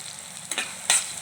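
Tomato with a little salt and turmeric frying in a pan for a drumstick tomato curry: two brief, loud bursts of sizzle and stirring over a quiet background, with no talk.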